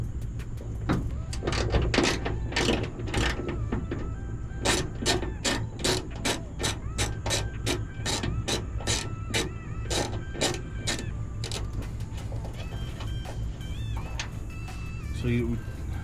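A hand ratchet works a 12mm nut off a ditch light bracket on a Toyota Sequoia or Tundra, giving rapid, close, regular clicking strokes that continue steadily with brief pauses.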